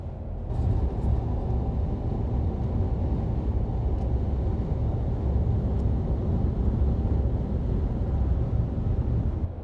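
Steady low road rumble of tyres and wind heard inside the cabin of a Ford Ranger Super Duty on the move, a constant dull drone without talk.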